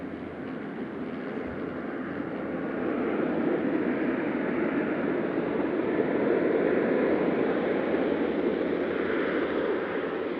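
A Mi-17 military transport helicopter flies with a steady, droning engine and rotor rumble that rises slightly after a few seconds and then holds constant, heard alone without voices.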